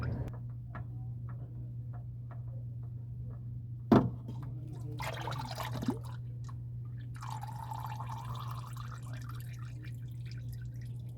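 Motor oil dripping from a Chevy during an oil change, a slow regular series of faint drips over a steady low hum, with a couple of louder knocks.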